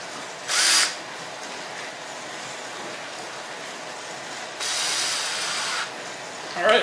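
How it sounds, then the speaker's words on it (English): A power drill drives screws into a wooden honey bee feeder board in two short bursts, about a third of a second and a second long, separated by quiet handling, with a third brief whir at the end. "back them out and drill them in again."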